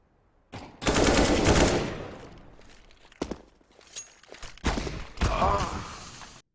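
Gunfire from a video game fires in several short bursts: a sustained rattling volley up front, then single cracks and two more loud bursts, close and sharp.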